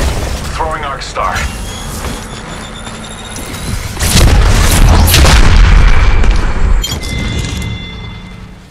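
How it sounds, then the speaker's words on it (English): An Arc Star grenade goes off in Apex Legends with a heavy booming burst and crackling electric noise among game sounds, while a voice talks over the action. "Throwing Arc Star."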